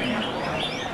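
A red-whiskered bulbul sings at a caged bird song competition: brief, bright chirping notes over a busy background wash of crowd and other birds.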